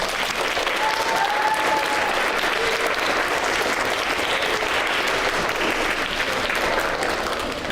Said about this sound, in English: give your parents a round of applause